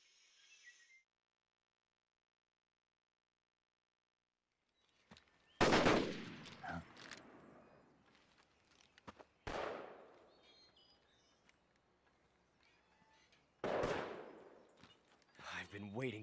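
Loud bursts of video game gunfire in Metal Gear Solid 3 crack out after a brief silence, several sharp shots and volleys spaced apart, with clattering echoes in between.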